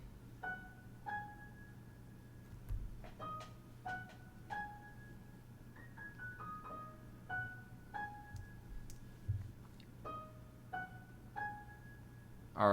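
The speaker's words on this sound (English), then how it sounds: "I added in a piano, which sounds like this" Piano part of a beat, sparse plucked notes in a simple repeating phrase over a low steady hum, fairly quiet and alone without talk.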